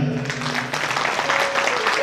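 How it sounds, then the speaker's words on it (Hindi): Steady, dense clapping from a crowd at a Shrimad Bhagavat Katha religious gathering in a Shiv Shakti temple in Rohini fills the whole stretch, with a voice briefly audible at the start. "एक बार उनके लिए जोरदार तालियां।"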